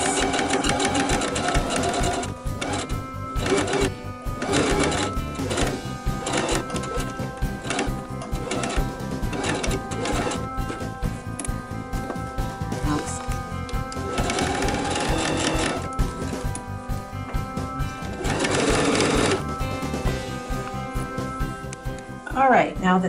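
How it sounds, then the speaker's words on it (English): A sewing machine runs in a long, fast, continuous stitching burst while sewing over circle and X lines on a tote bag, loud and close, with brief pauses and speed changes. "So I'm going to sew right over the stitching lines in a circle and then right over the X."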